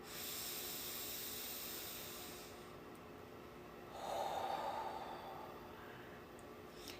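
Deep belly breathing during an exercise: a long airy exhale, a pause, then a rushing breath, soft and close, with no talking.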